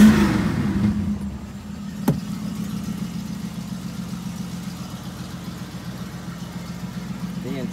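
1965 Ford Mustang engine running at a steady low idle, a continuous deep rumble heard close up, with one brief sharp click early on.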